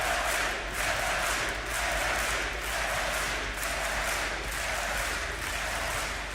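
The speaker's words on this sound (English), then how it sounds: "And the crowd absolutely loves it." Arena crowd at a Counter-Strike esports match, NiP versus Virtus.pro at DreamHack Masters Malmö, cheering and applauding in a sustained, swelling roar, with faint commentary underneath.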